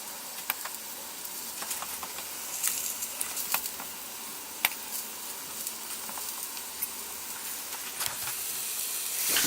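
Breaded tilapia fillets pan-frying in aromatic oil, a steady close sizzle and hiss with scattered sharp pops and spatters, heard alone without talk.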